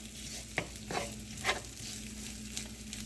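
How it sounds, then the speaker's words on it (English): Chicken fries in butter in a pan with a soft, steady sizzle, punctuated by a few brief scraping stirs, close and fairly quiet with no talking. "we're just going to let this cook in this butter. We want it to get good and brown."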